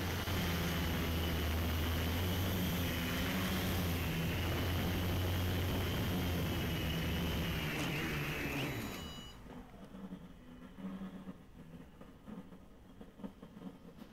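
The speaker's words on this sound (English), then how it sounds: "that'll about do it for a test run, so coming in for a landing." An MJX Bugs 6 quadcopter drone carrying a camera flies in to land, a loud steady whirring buzz of propellers close by that cuts off abruptly as it touches down, leaving faint outdoor ambience.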